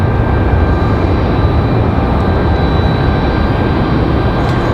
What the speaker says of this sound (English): Next arrival, Republic 4399 coming at us from Chicago.